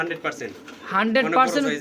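A pair of large racing pigeons offered for sale gives low, throaty coos that swell and fade across a couple of seconds, close by and mixed with a voice talking.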